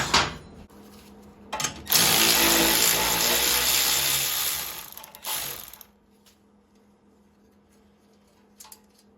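A hand wrench ratchets loose the bolts on an Ariens Deluxe 28 snowblower, a burst of dense metallic clicking lasting a few seconds, close and loud, with shorter clicks before and after and a quiet stretch at the end.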